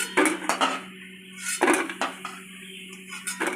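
Fried fritters are lifted out of a pan with metal utensils, giving several sharp clinks and scrapes spaced about half a second to a second apart over a quiet steady hum.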